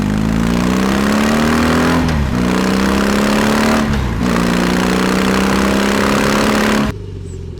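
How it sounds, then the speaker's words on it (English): A 2022 BMW R18 Transcontinental motorcycle's exhaust drones loud and steady, its deep, throaty note climbing through gears with brief dips at each shift while riding. "I have immediately fallen in love with the sound that comes out of the exhaust."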